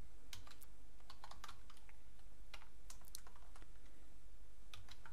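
Steady typing on a computer keyboard while entering code, with rapid irregular key clicks and occasional louder taps over a low background hum, close and fairly quiet.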